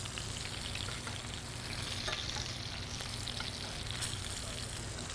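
A ribeye steak sizzles steadily in a hot pan while being basted with oils from sage and rosemary, a dense, continuous frying hiss with faint spoon clicks, close and even throughout, no voices.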